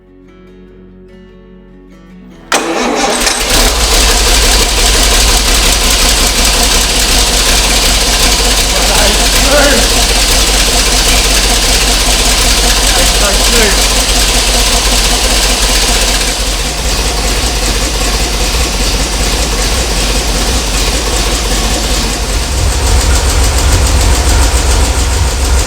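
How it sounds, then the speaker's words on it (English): A 50-year-old petrol Bedford engine runs with its rocker cover off, starting abruptly after a short quiet lead-in and then holding a loud, steady, clattering idle close to the microphone for the rest of the clip. "we all get the fun spectacle of watching the engine run with the rocker off"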